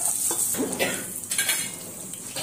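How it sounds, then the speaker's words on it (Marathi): Peas, cauliflower and potato fry in a pan for masale bhat, with steady soft sizzling, a faint high hiss throughout and intermittent scraping and clinking of a spoon stirring against the pan. "आपलं वाटाणा, फ्लावर, बटाटा हे चांगलं फ्राय झालं"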